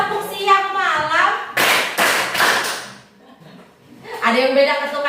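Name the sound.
class clapping a rhythm pattern on command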